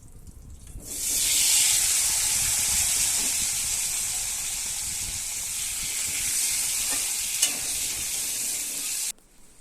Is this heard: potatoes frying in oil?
yes